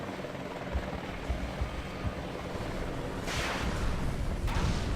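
A helicopter in the video game Battlefield Vietnam makes a steady, loud rotor and engine drone. Two bright bursts of noise cut in near the end, and no one talks.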